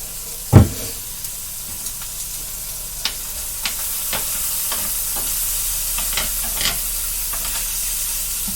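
Pork pieces for a slow-cooked ragout browning in a hot pan, a steady close sizzle and hiss with a sharp clatter near the start and scattered scrapes and pops of stirring throughout.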